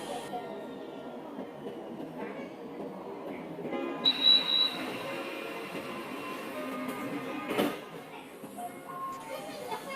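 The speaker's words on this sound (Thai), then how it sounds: "นี่คือบรรยากาศ บนรถไฟฟ้า BTS นะครับ" Interior of a moving BTS Skytrain car in Bangkok: a low rumbling hum with mechanical squeals and a brief high tone, continuous and moderately quiet.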